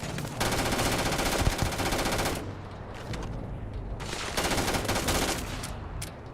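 Sustained automatic gunfire in the video game Starfield: long rapid bursts of shots with brief pauses between them, loud and dense, with no talking over it.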